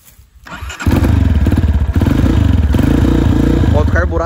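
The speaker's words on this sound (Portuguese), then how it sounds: "Moto carburada é foda, né?" A cold carbureted motorcycle engine is cranked, catches and settles into a loud, lumpy, uneven idle with a fast pulsing beat, close by and dominating the scene.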